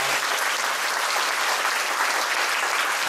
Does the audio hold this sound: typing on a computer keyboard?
no